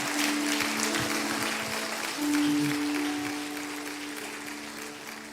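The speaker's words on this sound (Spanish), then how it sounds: "¿Qué tal si das un fuerte aplauso al Señor?" A church congregation claps for the Lord during an evangelical revival service, a sustained crowd of clapping hands with a held tone and faint voices beneath, fading slightly toward the end.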